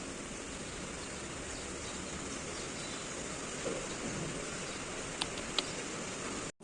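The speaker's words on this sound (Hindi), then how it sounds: "देखो बहुत बारिश हो रही है।" Heavy rain pours down steadily at home while children sleep, a dense continuous hiss filling the whole stretch at an even level, with a couple of brief sharp clicks near the end.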